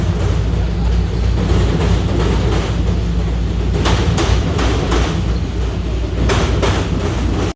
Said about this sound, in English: Here goes the L train over Lake Street.